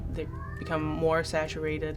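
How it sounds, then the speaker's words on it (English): House cat meowing in drawn-out, wavering calls right under a person's steady talking, close by. "Excuse my cat, he has opinions."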